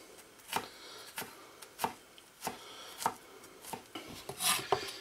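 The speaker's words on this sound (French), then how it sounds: "hacher, le couper le plus finement possible" A knife chops garlic finely on a board in about eight evenly spaced, crisp knocks, close up and moderately quiet, with a brief scraping sweep near the end.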